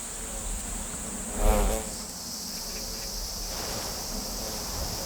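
Yellow hornets buzz around their nest in an urban setting, a steady insect drone with a brief louder swell as one passes close, otherwise even and unbroken, with no voices.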